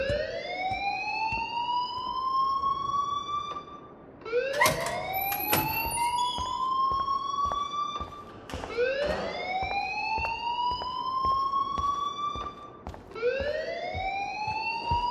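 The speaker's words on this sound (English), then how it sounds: "please turn off that alarm since that's your job" Fire alarm in the video game Life Is Strange, ringing in loud repeated rising wails, four sweeping cycles in a row with brief gaps, steady and close with no talking over it.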